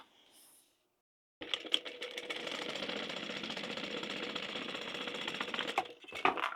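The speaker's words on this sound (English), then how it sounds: "Now we're going to stitch down the top." Sewing machine stitching down the top edge of a fabric wallet, a steady fast mechanical whir and rattle running for about five seconds after a brief quiet pause, close and moderately loud.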